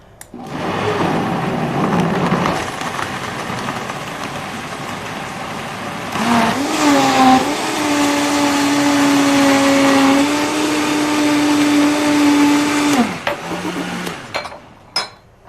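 Vitamix blender blending orange juice, a loud close motor roar that starts, ramps up to a higher steady whine for several seconds, then cuts off and spins down.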